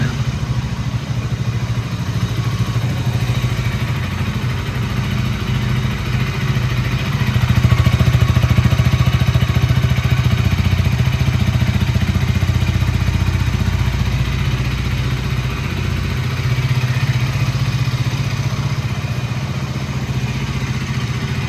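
A 2025 KTM Duke 200 motorcycle engine runs continuously with a low, throbbing rumble and mechanical clatter, swelling slightly louder midway, with no voices.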